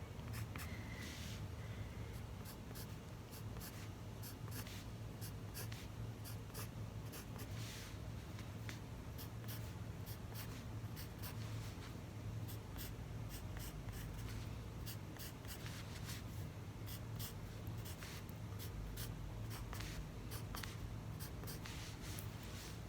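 A colored pencil shades across paper in a continuous close, soft scratching, with quick rhythmic strokes and brief spurts of firmer pressure throughout.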